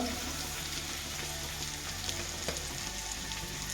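Okra fries in coconut oil with salt for a Kerala-style stir-fry. A steady, close sizzle crackles on without pause, with faint stirring scrapes and no talking.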